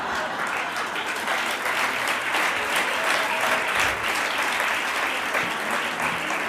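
Sustained applause from a large crowd, dense steady clapping that holds at an even, loud level throughout without pause.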